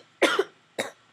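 Two short, sharp coughs from one person, close and fairly loud, the first longer and the second clipped, separated by a brief pause.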